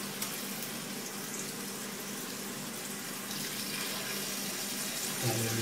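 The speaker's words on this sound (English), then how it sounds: "So I'm just going to fill up the pan like 3/4 of the size." Tap water runs steadily into a pan holding vegetables, a continuous close splashing and filling sound with a brief clunk near the end.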